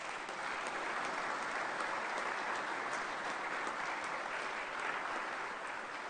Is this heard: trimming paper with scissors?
no